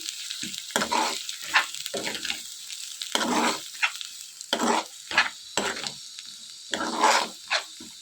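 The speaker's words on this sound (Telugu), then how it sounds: "ఇదంతా కూడా ఇలా ఫ్రై చేసుకోవాలి" Spatula scrapes and stirs through a frying pan in irregular bursts as coriander, mint and tomato chutney ingredients fry, with a steady sizzle of oil underneath and no talking.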